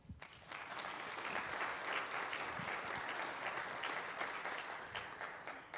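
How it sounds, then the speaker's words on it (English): Audience applause at a formal presentation event, a dense steady clapping that swells quickly and sustains at full strength before tapering slightly near the end. "Another round of applause."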